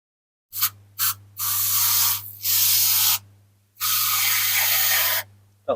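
Aerosol can of Mr. Muscle oven cleaner sprayed onto diecast BMW 750iL bumpers sitting in a tin: two short hissing bursts, then three longer sustained sprays, close and loud with no talking.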